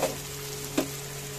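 Ginger paste frying with tomatoes in a pan for chilli cauliflower, giving a steady soft sizzle with one brief louder crackle from stirring partway through.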